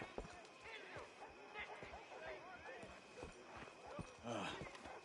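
Horse hooves clop irregularly in Red Dead Redemption 2, fairly soft and partly buried under a busy outdoor ambience, with brief voices present.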